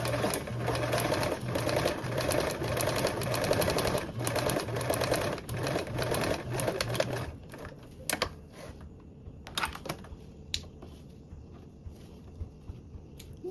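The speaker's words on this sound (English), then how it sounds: "I'm gonna go ahead and top stitch along this one first" A sewing machine top stitches along the zipper binding of a fabric toiletry bag: a steady, rapid mechanical chatter for about seven seconds, then stops, followed by scattered light handling clicks and taps.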